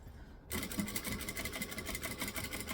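A sewing machine stitches forward and then back over a seam in vinyl, a steady rapid mechanical whirring that starts abruptly after a brief quiet moment and runs close and even to the end.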